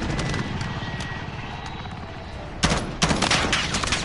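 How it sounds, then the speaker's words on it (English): Helicopter rotor in a Call of Duty match thuds as a steady, throbbing drone close by, and bursts of gunfire break in loudly near the end. "The fucking helicopter's there."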